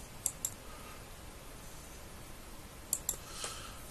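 Computer mouse clicking during a Linux Mint installation, two quick pairs of sharp, close clicks, one near the start and one about three seconds later, over quiet room noise.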